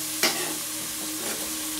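Beef with browned onions and tomatoes frying in a pan, a steady sizzle with a sharp stirring scrape near the start and a softer one later, close and moderately loud.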